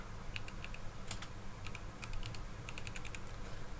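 Keys tapped on a computer keyboard while a new folder name is entered, in short irregular bursts of close, light clicks with a pause midway, over a low steady room hum.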